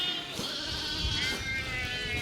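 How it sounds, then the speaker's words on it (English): Sheep bleat at feeding time on a farm in Zambia, several overlapping wavering calls from a flock, loud and fairly close, continuing throughout without talk. "So many sheep."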